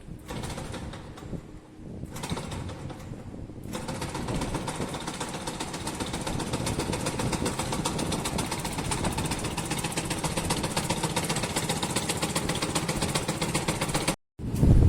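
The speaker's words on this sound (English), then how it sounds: "we have shaked the sieve for 5 minutes, and after 5 minutes the machine is stopped" A sieve shaker machine runs during a grain fineness test in a manufacturing lab, starting after a few seconds of quieter room sound and then holding a steady, close mechanical hum and vibration before cutting off briefly near the end.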